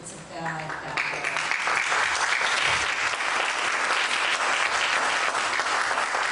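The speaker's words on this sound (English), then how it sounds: "If you would please refrain from applauding." Audience at a Salinas candidate forum on healthcare breaking into loud, sustained applause after a speaker's remarks, with a few voices audible at the start before the clapping swells and continues evenly.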